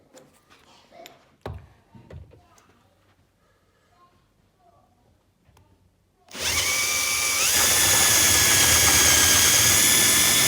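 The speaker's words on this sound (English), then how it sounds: "it was quite easy to drill those holes in the plasterboard and then the block work behind, because it's just breeze block" Quiet shuffling and a few clicks give way to a Bosch driver drilling into plasterboard and breeze block on a dot-and-dab wall, which roars in suddenly and runs loud and steady to the end.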